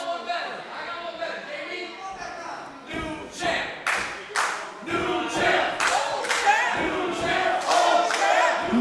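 A wrestling crowd cheers for the Warhorse at an independent pro wrestling event, rising clapping, shouts and rhythmic cheering that build in intensity, with an announcer talking over the noise.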